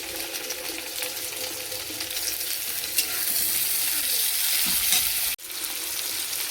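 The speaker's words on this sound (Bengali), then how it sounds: "আদা রসুন ভাজা হয়ে গেছে, এবার টমেটোটা দিয়ে দিচ্ছি।" Chopped tomatoes go into a pan of frying ginger and garlic, producing a steady close sizzle with stirring scrapes that briefly cuts out and then resumes, with no talking.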